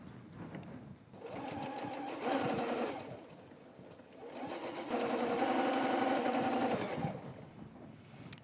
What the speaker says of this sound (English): we're just going to continue sewing. So now we're going to sew our shape E.